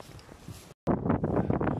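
Wind buffets the microphone on the Mont Blanc summit ridge, a gusty rushing noise that cuts out briefly, then returns louder and more turbulent.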